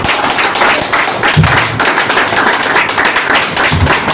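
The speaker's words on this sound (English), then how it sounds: "Please, let's give her a sound clap." An audience at a live-streamed event claps, a loud, dense, continuous patter of many hands with heavier thumps mixed in and no talking over it.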